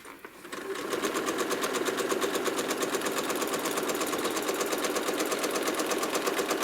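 A home sewing machine starts up and runs fast and steady while freehand quilting feathers along a ruler-quilted spine, a loud rapid mechanical whir of even stitching that continues without pause.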